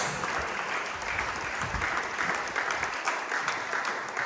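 Steady applause from a church congregation fills the space for several seconds, dense and continuous with no voices standing out.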